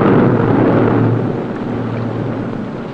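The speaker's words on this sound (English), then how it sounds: "Put 2 engines on charge, Allen." Two engines of the submarine USS Gar run on charge to recharge run-down batteries, a loud, steady, dense diesel rumble and roar that fills the space and eases slightly in level, with no voices.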